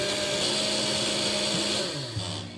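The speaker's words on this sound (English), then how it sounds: "You pour your parents' organs in the blender and blend away." A blender from the horror video game Andy & Leyley whirs loudly in a steady, high-pitched motor drone, then winds down toward the end, with no talking.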